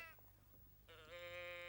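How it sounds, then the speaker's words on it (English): A sheep bleats in a children's farm-song programme, a single drawn-out bleat rising in the second half after a brief earlier call, fairly loud with no talk over it. "a sheep."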